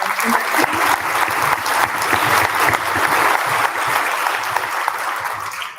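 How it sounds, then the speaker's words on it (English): An audience at a National Junior Honor Society induction ceremony claps loudly and continuously throughout, a thick, steady round of applause with no letup. "So another round of applause"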